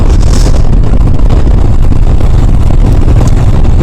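Royal Enfield Himalayan motorcycle riding down a sandy, overgrown green lane, its engine a steady loud rumble mixed with heavy wind buffeting across the whole stretch.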